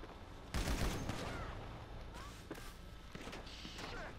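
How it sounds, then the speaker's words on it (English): Short bursts of gunfire in GTA 5 Online, loud and close at first and then continuing as a dense, layered battle with more distant shots. Voices of players are mixed in beneath the shooting. "The reason I'm burst firing these guys is because I don't want to shoot the truck"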